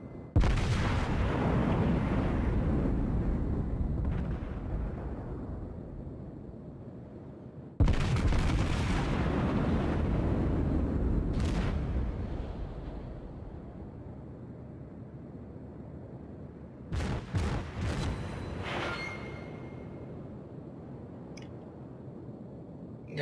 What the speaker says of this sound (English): Now I'm lining up a second salvo on that Congo.